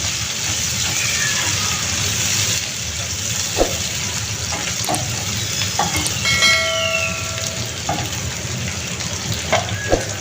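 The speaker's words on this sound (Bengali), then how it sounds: "একটু নেড়ে দিচ্ছি নেড়ে ছেড়ে একটু ভেজে নিব আর কি" Fish and vegetables fry in a pan, giving a loud, steady sizzle close by that is broken by occasional scrapes and clinks from stirring. A person talks over part of it.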